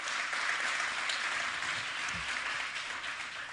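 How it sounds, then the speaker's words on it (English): A live audience applauds a public-private partnership panel at the Denver Union Station grand opening, a dense, steady wash of clapping that holds at even loudness throughout. "will you also give the panel, the P3 panel, a round of applause"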